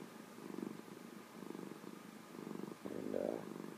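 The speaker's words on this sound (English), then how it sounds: "this is my little rescue kitty that I rescued about three years now" A rescue cat purrs softly and close, the low rumble rising and falling in a slow rhythm of repeated breaths, with no voices over it.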